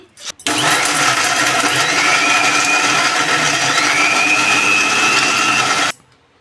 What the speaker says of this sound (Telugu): ఇప్పుడు మిక్సీ పట్టుకున్నాం.